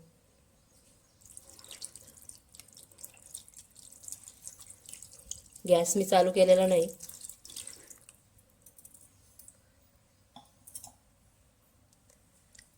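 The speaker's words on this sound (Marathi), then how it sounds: "आता याच्यामध्ये आपण पाणी घालून घेऊ" Tap water runs and splashes in a brief louder burst into a pot of masala-coated Bombay duck fish, with quiet clicks and drips around it and a voice speaking softly.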